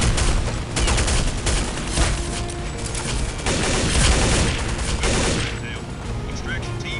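Dense gunfire from the game Counter-Strike: Condition Zero, loud rapid bursts of shots and booms packed together with little pause, easing off toward the end.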